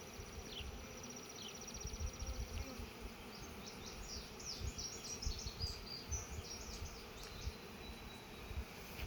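Honey bees buzzing steadily around an open hive, a dense low drone with individual bees flying close past, plus faint bird calls and insect chirping far off.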